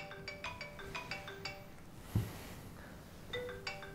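A mobile phone rings with a melodic electronic ringtone, a run of bright repeated tones, then a short thump and pause before the tune starts again.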